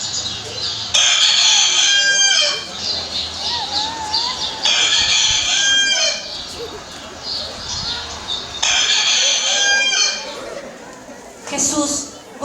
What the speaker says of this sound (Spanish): En ese momento cantó el gallo.